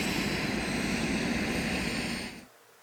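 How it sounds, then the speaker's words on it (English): A helicopter starting up, its turbine whine and engine roar building into a steady, loud drone with high tonal bands, then cutting off abruptly near the end to near silence. "a helicopter starting up for the sound of her whipping that chain."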